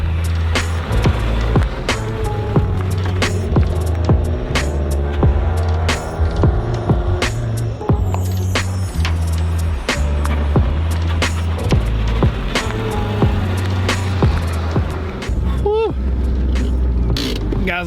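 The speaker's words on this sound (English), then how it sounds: "I don't know if you heard that rod knock" A street car's engine idles and revs with a steady low drone and a regular ticking knock from a worn connecting rod, loud and close, with a person talking over it.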